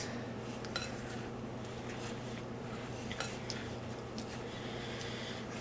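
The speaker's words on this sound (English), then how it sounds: "just mix it together like this" Cookie dough for coconut-oil sugar cookies being mixed in a bowl, faint clicking and scraping of a utensil against the bowl over a steady low hum, with no one speaking.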